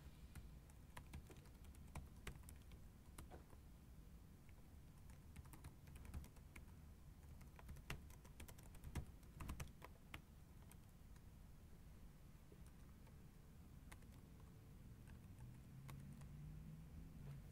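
Typing on a computer keyboard: quiet, steady clicking keystrokes in irregular bursts over a low background hum, close and faint, with no speech.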